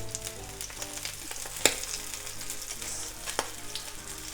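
Salmon fillet for teriyaki sizzles in a pan as it crisps, giving a steady close frying hiss with a sharper pop or utensil tap midway and another near the end.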